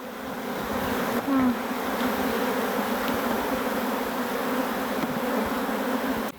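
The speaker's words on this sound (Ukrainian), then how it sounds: "Сьогодні вечором це вже другий рій." A swarm of honey bees fills the air with a loud, dense, continuous buzzing hum, close and unbroken throughout.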